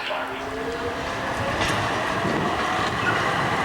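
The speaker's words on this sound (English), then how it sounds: "Okay, more tram action." An Amsterdam tram rumbles past nearby at a station yard with a steady rail roar and a brief wheel squeal early on, loud and continuous.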